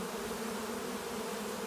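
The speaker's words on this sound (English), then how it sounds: "The bees are really starting to work their way in now." A honey bee swarm drones in a dense, steady buzz while the bees crawl into a hive under a raised blanket. The hum is close and continuous, with no pauses.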